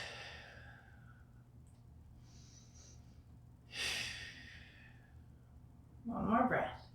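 Deep breathing during a cobra stretch in a mobility workout: a few quiet, slow breaths, with one long exhale in the middle and a louder breathy sigh near the end, all faint and close.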